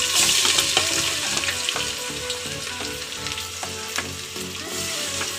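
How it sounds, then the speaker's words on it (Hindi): Chopped garlic, ginger and garam masala fry in a pan with a steady, busy sizzle that carries through the whole clip, and stirring noises sound now and then over the crackle. "और इसको हल्का सा थोड़ा फ्राई कर लेंगे, थोड़ा ये भुन जाए, लहसुन अदरक थोड़ा लाल लाल गुलाबी से हो जाएंगे।"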